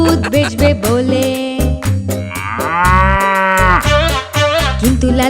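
A cow moos loudly and close, in several long, drawn-out calls that rise and fall, with short gaps between them.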